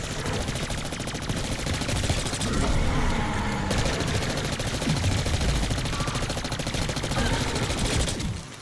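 Rapid SMG gunfire in a video game fires in sustained, dense bursts that roll almost continuously at a steady, loud level, with no voices over it.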